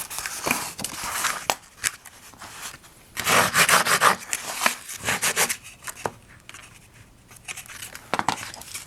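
A hand saw cuts wood for a stacking box in short, uneven bursts of rasping strokes. Busier stretches are interrupted by pauses and light handling noises, close and fairly loud, with no speech.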